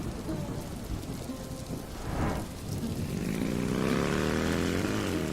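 In a village-story cartoon, a heavy rain shower pours steadily while a deep thunder rumble rolls in, swells and lingers loudly beneath the downpour.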